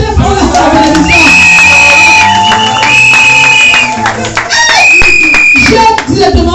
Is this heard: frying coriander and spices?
no